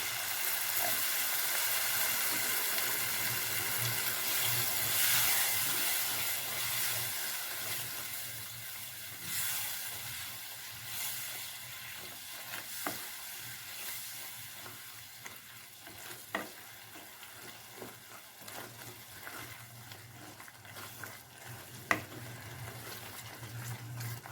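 Spinach masala simmers in a pan after water is added, a steady soft sizzle and bubbling hiss with occasional stirring scrapes and clicks, continuous and moderately quiet throughout.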